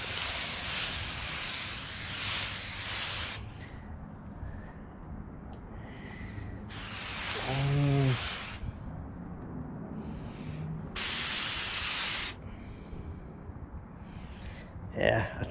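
A garden hose sprays fine water mist onto a car hood during a detailing test, heard as three loud hissing bursts of several seconds each, separated by quieter stretches with a person talking.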